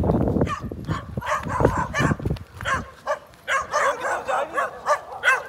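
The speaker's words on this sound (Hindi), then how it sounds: "भाई साहब इधर तो कुत्तों की पूरी टीम आ चुकी है।" A pack of several dogs barks and yips close by in rapid, overlapping bursts, with loud barking at first, then a quicker string of sharper yips.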